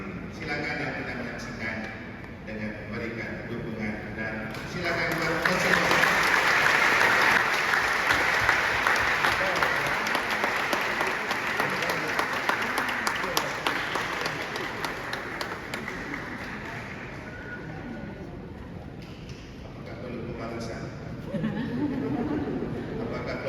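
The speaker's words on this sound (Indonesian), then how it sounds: "Oke, kita berikan aplaus." Audience applause fills a Catholic wedding ceremony for Rafael and Florence, rising into a sustained round of clapping for several seconds and then tapering off under murmured chatter and speech.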